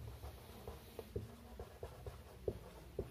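A pen or chalk writes steadily during a Class 7 math lesson, giving soft, rhythmic scratches and taps that come close and quiet against a low room hum.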